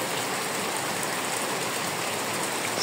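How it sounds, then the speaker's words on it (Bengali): Steady rain falling on a rural home and its yard, a dense even hiss of drops on the surface, constant and fairly loud throughout, with no voices. "বাড়ি আসতে না আসতে বৃষ্টি আরম্ভ হয়ে গেল"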